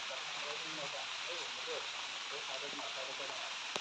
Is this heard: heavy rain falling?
yes